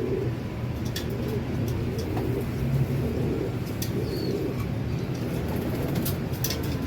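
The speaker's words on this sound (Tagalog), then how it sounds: "Pakita mo yung mga ibon natin" Racing pigeons being prepared for a derby coo softly and continuously in their loft, a low murmuring rumble with faint scattered chirps and clicks, steady throughout with no talk.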